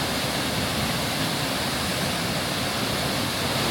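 A low waterfall in a gorge near Bled and Bohinj carrying a lot of water roars as a dense, continuous rushing wash, loud and steady throughout with no voices.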